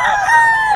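A mature gamecock crows loudly and close by at a bird market, a single sustained, strained call with no voices.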